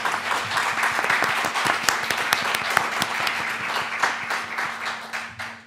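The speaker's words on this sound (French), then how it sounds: "Il faut les applaudir." Conference audience in Brussels applauding, a dense, steady burst of clapping from many hands that holds evenly for several seconds before tapering at the end.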